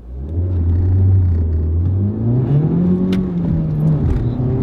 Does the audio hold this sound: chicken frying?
no